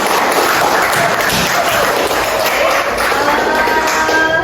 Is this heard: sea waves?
no